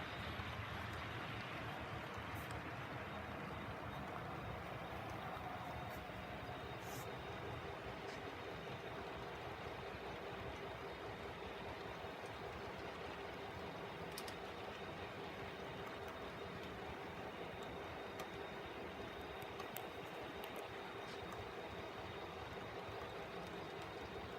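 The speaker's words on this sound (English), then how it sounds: "The train is actually going around the corner here and entering the helix." A model train rumbles steadily around a layout curve into a helix, with a continuous close whir and faint clicking, occasional light metallic ticks, and no talking.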